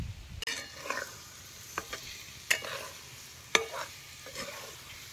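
Eggs frying in roasted masala in a pan over a wood-fired stove for egg curry, a soft steady sizzle broken by a few sharp spoon scrapes and clinks against the pan, close and without talk.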